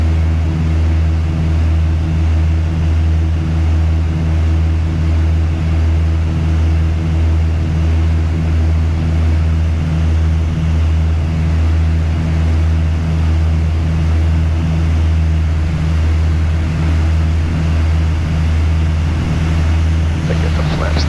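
Propeller airplane flying over the downtown Chicago lakeshore, a loud continuous drone of engine and prop heard from inside the cabin, steady and unbroken throughout.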